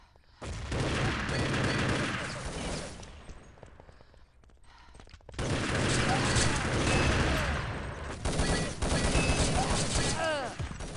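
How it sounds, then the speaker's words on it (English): Grenades going off during a competitive online shooter match between national teams: loud bursts of explosions and rapid gunfire in two long barrages split by a brief lull, with a commentator talking over the action. "in will come the nades once more"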